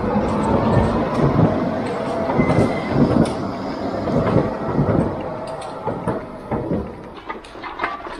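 Trains rumble and clatter overhead on a bridge, with rhythmic wheel clacks and occasional metallic squeals echoing from the structure above.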